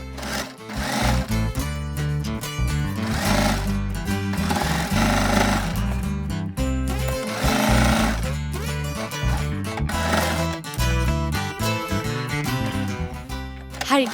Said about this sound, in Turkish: 1 santim kadar kenarlardan boşluk bırakarak dikiş yapıyorum